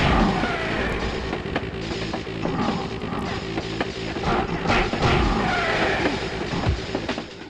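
Subway train rumbling along in a Spider-Man PS1 video game level, a steady loud rolling rattle with clickety-clack wheel noise and occasional metallic squeals, continuous throughout with no talking.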